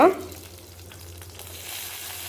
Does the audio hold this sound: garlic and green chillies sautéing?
yes